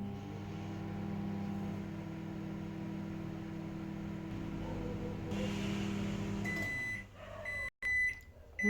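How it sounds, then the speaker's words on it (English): A microwave oven heating a cup of orange peel runs with a steady droning hum. Near the end the hum stops, leaving a few clicks and beeps. "Turn on your microwave. A cup of orange peel. Microwave it for 20-30 seconds."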